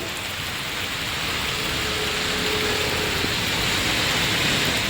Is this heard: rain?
yes